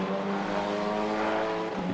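GT race cars run at the Nürburgring in Assetto Corsa Competizione, a steady buzzing engine drone at high revs that holds through the whole stretch with a slight shift near the end, and no talking.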